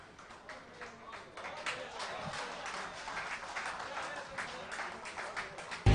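Audience applause at a poetry performance, a sustained crowd of clapping that grows slightly louder, fairly distant and moderate in level, with a voice briefly audible beneath it.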